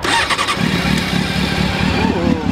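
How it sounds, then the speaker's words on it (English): Motorcycle engine started with its starter button, then running at a steady, throbbing idle close by, with no talking. "You said that's the engine starter?"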